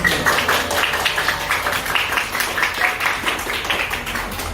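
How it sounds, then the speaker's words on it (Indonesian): A classroom full of students claps together after a group presentation in a lesson, with a dense, steady patter of many hands lasting several seconds at close range. "Tepuk tangan."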